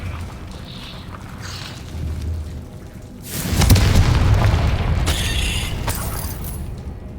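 Confringo fire-blast spell cast in Hogwarts Legacy, a sudden loud booming burst midway that rumbles on with crackling debris after a quieter mechanical stretch.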